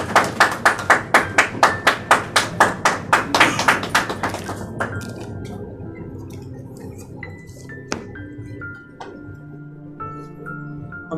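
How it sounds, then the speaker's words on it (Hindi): A crowd claps together in a quick, steady rhythm for several seconds, then the clapping stops and soft instrumental notes continue alone. "आप ज़ोरदार तालियां बजाएं अपने लिए"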